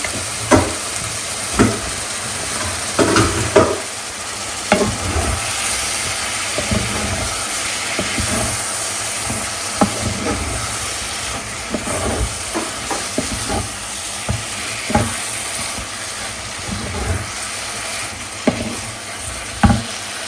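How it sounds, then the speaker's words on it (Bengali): Shrimp and vegetables fry in oil with spices in a home kitchen pan, hissing and sizzling continuously while a utensil scrapes and stirs in repeated sharp strokes. "চিংড়ি মাছটা কষায় আসছে"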